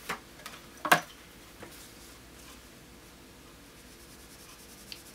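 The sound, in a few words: testing new pencils on a small notebook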